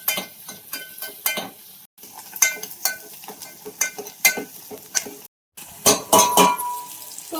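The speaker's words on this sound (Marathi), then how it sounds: "तर कांदा टाकते आणि नंतर कढीपत्ता लय कढीपत्ता उडते" Onion and curry leaves sautéing in a pan on a wood-fired stove, with repeated sharp metallic clinks and scrapes of a spoon against the pan over a faint sizzle, up close.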